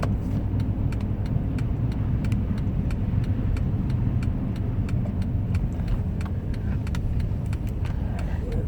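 An Acura SH-AWD drives slowly through snow in a Georgia snowstorm, its engine a steady low rumble from inside the cabin with constant road and tire noise and faint light clicks, no talk.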